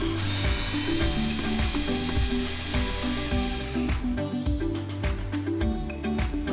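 A power tool backs T15 screws out of the grille on a C8 Corvette, giving a loud, steady whine that cuts off partway through. Rapid ratcheting bursts and clicks follow.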